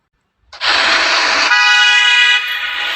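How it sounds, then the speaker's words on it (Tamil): Several car horns honk together as a row of cars arrives, one long continuous blare of overlapping toots that starts abruptly, holds loud and steady for over two seconds, then changes pitch slightly before cutting off. "வரிசையாக காரு வேணெல்லாம் வர்ற சத்தம் இருக்குது"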